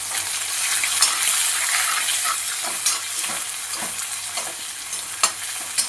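Onion sautés in a pan for a Kolhapuri chicken kharda, a loud continuous sizzle with occasional stirring knocks and scrapes, heard close up with no talking.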